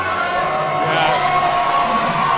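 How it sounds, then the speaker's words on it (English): A boxing crowd cheering before a bout, a loud, steady wash of voices and whoops filling the arena without pause. "And the crowd is certainly enjoying this one."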